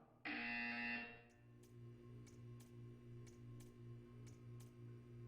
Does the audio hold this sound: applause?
no